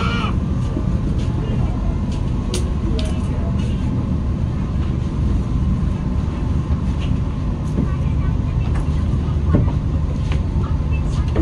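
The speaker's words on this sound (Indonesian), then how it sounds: "kereta api Taksaka Tambahan telah tiba di stasiun Cikarang" The Taksaka Tambahan executive passenger train on the Jogja–Jakarta run rolls steadily on its rails with a constant loud rumble heard from inside the carriage. Faint clicks from the rails and a few passengers' voices come through under the noise.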